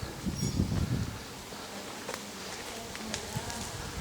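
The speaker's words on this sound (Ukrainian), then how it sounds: "По сумахам лази бджола." A bee buzzes steadily close by on blooming sumac flowers, a soft continuous drone over light outdoor ambience, with a few low rumbles near the start.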